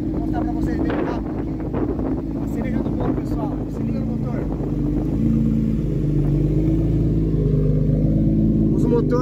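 Subaru EZ30 3.0-litre six-cylinder engine swapped into a VW Variant, running steadily at close range with a low, even drone and some wind buffeting, while people talk over it.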